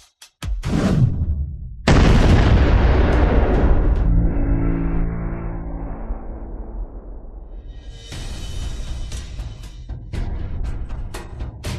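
A bomb goes off in an action-film scene: a sudden, loud, close blast that rolls into a long, rumbling decay, followed by a second burst of crackling debris noise near the end.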